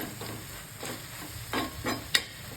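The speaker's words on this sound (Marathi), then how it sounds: "दोन मिनटं फक्त परतून घेणार आहे वांगे भाजून घेतल्यामुळे जास्त परतायची गरज नाही" Roasted eggplant bharit sautéed in a pan, with a soft steady sizzle and a few distinct spatula scrapes and stirs close by, the last one sharpest.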